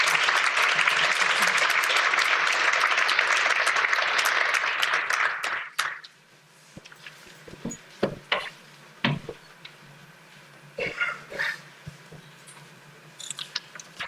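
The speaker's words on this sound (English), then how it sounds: "if we could get a round of applause, please, for Greg Hummel" An audience applauds for an honoree at a forum, a dense, loud wash of clapping for about six seconds that fades out, followed by scattered faint knocks and taps.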